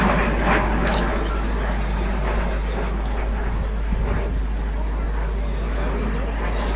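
A Hunting Percival Jet Provost T5 jet trainer performs a flying display at an air and car show at Little Gransden, its engine a broad, fairly loud rushing roar that holds steady under a voice talking throughout.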